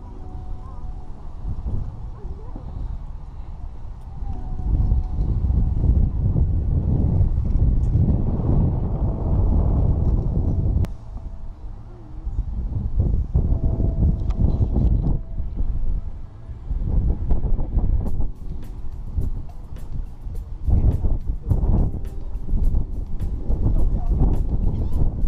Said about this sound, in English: It's very windy, so I may end up putting music to this.